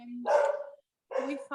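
A dog barks indoors, a short burst of two or three close, moderately loud barks separated by a brief pause, with nothing else in the background.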